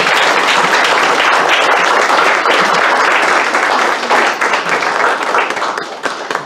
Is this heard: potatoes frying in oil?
no